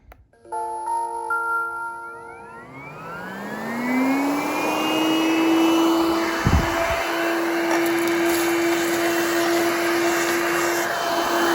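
Coral One 2-in-1 handheld vacuum switching on and spinning up to a steady loud whine, then running continuously while sucking up spilled rice along baseboards, with brief rattles of grains.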